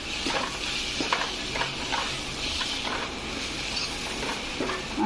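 Steady scraping and stirring of spice powders, salt and tomato in oil in a pan over a constant hiss of frying, with occasional light clinks of a spoon against metal.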